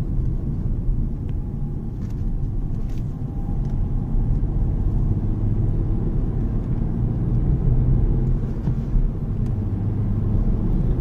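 Steady low engine rumble and road noise from inside a moving Nissan Magnite non-turbo, continuous and even, with no talking.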